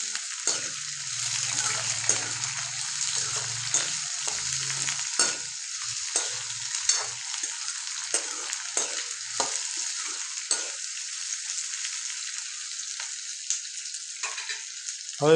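Besan being stirred into a capsicum curry in a pan, a steady sizzle running under repeated scraping strokes of the spoon, close and fairly even throughout, with a faint low hum early on.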